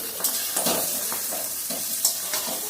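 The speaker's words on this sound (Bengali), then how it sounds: "এখন আমি জলটা দিয়ে দেব।" Spiced masala with boiled potatoes and chickpeas sizzles in a pan as water goes in, giving a steady frying hiss with soft stirring scrapes and a few sharp bursts, with no voices.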